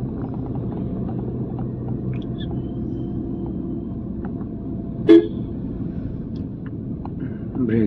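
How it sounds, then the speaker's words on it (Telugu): A car horn gives one short, sharp honk on a busy signal road during a driving lesson in traffic, heard over a low steady engine and road hum. "హార్న్ కొట్టండి"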